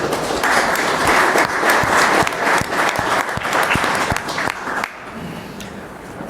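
Loud audience applause fills the room at an Innovate Alabama board of directors meeting, sustained for several seconds before tapering off to a quieter murmur near the end.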